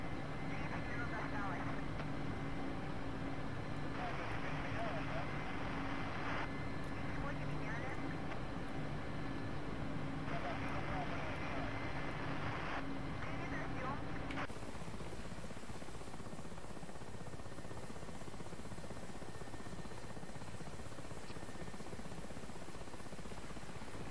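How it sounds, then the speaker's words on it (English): A helicopter in the DCS flight simulator on an oilfield mission makes a steady droning turbine and rotor hum that shifts in tone partway through, with intermittent muffled voice chatter over it. "Would you get on a helicopter like this?"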